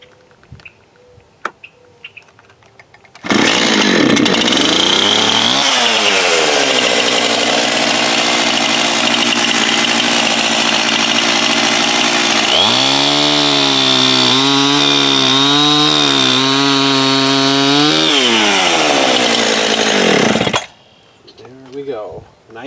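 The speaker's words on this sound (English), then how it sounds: "I will be cutting this end off right here to make it even so it's easier to work with" A chainsaw cuts the end off a log for an axe handle, revving up loud and close, holding a steady whine with pitch dips as it bites through the wood, then stopping.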